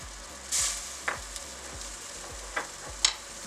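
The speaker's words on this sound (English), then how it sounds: "I'm adding some butter" Butter sizzling in a hot pan while making Jamaican coconut gizzada, with a quiet, close crackle and a few sharp spits and clinks against a low hum, no talking.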